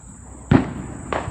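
Two sharp fireworks bangs burst about half a second apart from each other, fairly distant, set off by neighbors at night around half past nine in a residential area, each crack trailing into a brief rumble over a steady insect-like hiss.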